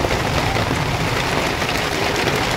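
Steady, dense rain pours down close at hand as a loud, unbroken hiss with no pauses. No other sounds stand out through it.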